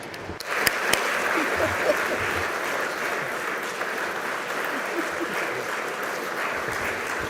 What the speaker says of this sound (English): he deserves our applause and our words of thanks